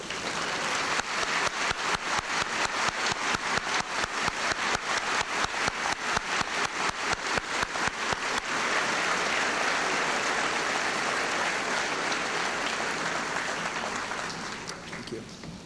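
Loud, sustained applause from a high school commencement crowd honoring students, starting as dense rhythmic clapping and settling into a steady wash that fades slightly at the end.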